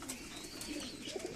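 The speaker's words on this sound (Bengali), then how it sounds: "এটা একটা ফিমেল দেশি পায়রা" A female native domestic pigeon, pure white, cooing close by in a few soft, low throaty pulses, with faint background chatter and rustling.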